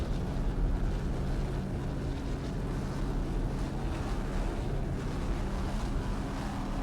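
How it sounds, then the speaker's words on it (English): A 38-foot Skater racing powerboat with Mercury power throttles on open water, a continuous broad roar of engines mixed with wind and spray, heard from a distance and without speech. "Nice throttling there by Lance Hendrickson on board Spider-Man, 38-foot skater, Mercury powered"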